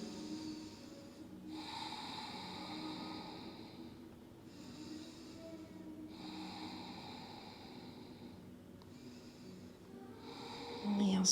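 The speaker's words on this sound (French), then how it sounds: "Prenez 3 longues respirations." Long deep breaths during a yoga hip-opening pose, three slow cycles of airy inhales and exhales with short pauses between, close and soft.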